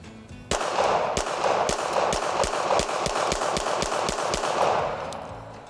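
A rapid, evenly paced string of about twenty loud, close pistol shots from an Armscor Rock Island Armory STK100 crack outdoors in quick succession before stopping.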